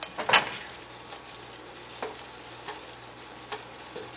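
Asparagus cooks in a pan with broth, giving a soft steady sizzle and bubbling, with a sharp utensil clink at the start and a few faint taps after.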